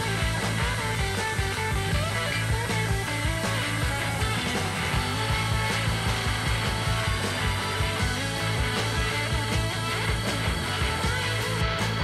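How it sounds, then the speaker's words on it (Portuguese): A belt sander grinds steadily and loudly on a Turkish Damascus steel Bowie knife blade, a dense continuous abrasive roar with a constant motor drone throughout. "eu começo o desbaste na lixadeira, já deixando quase no formato final"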